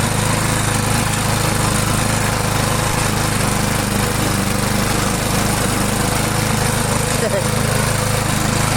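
A Stiga Multiclip Euro 46S self-propelled lawn mower engine runs loud and close, a constant droning rattle that holds steady throughout with no breaks.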